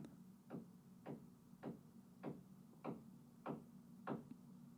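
Steady knocking or hammering comes from outside, seven evenly spaced muffled thuds about half a second apart, faint and distant over a low background hum.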